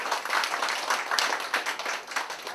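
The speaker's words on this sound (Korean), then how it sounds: "그때 박수 한번 쳐드려야 될 것 같은데." Audience at a political lecture on prosecutorial reform applauding steadily, a dense wash of many hands clapping at fairly even loudness throughout, with no talk over it.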